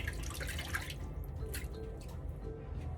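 Water running and splashing as slippery, soapy hands are rinsed under a bathroom tap, a close, low patter of drips and flow.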